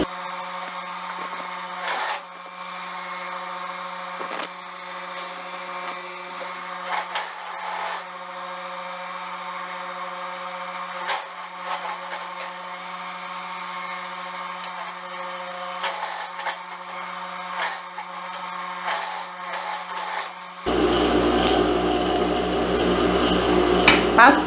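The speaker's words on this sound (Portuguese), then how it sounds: "Agora eu vou colocar aqui, ó, direito com direito e vou passar a costura fechando esse decote" A sewing machine stitches a seam closing a neckline on fabric pieces placed right sides together, a steady close mechanical whir running continuously with small ticks, growing louder and denser near the end; no talking.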